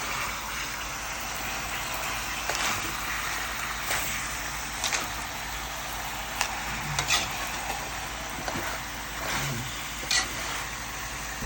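Sautéed mixed vegetables with chayote and cabbage being stirred in a pan, a soft steady sizzle with scattered scraping clicks from the utensil, moderately close and without talk.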